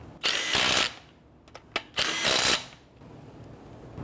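An impact wrench snugs down the wheel lug nuts on a 2011-2017 Nissan Quest in two short, loud whirring bursts, with a few light clicks of handling between them.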